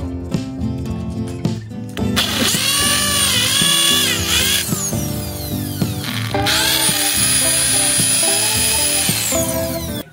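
A power drill boring holes for the screws of a garage light fixture, running loud and steady with a rising and falling whine across almost the whole stretch, with brief pauses near the start and middle.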